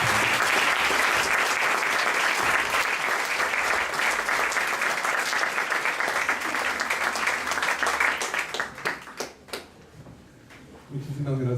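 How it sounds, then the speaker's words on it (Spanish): Audience applause at an academic university ceremony, a loud, dense burst of clapping that holds steady before thinning into scattered claps and fading out. "Un aplauso."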